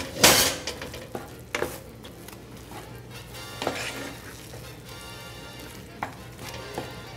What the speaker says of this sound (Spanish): Ahora sí vamos a agregar aquí el brócoli. Vamos a mezclarlo muy bien con la crema.